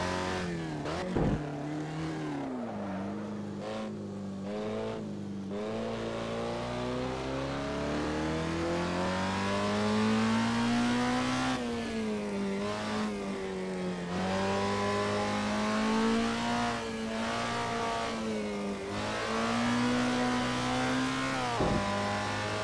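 Vintage race car engine at Vallelunga in Assetto Corsa, loud and close, revving up through gears with rising and falling pitch sweeps and sharp shifts over a sustained run.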